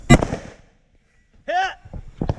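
A single sharp, loud gunshot rings out at a steel target during a two-gun shooting competition. It decays quickly, and a short shouted voice follows a moment later.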